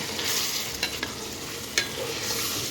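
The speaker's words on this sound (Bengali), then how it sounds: "মাংসটা কষানোর সময় দুটো ছোট সাইজের টমেটো একদম ছোট ছোট টুকরো করে এর মধ্যে দিয়ে দিলাম আবারও ভালো করে কষিয়ে নেব" Mutton and finely chopped tomatoes sautéed and stirred in a pot over a wood-fired clay stove, a steady low sizzle broken by a few sharp scraping stirs, close and fairly quiet.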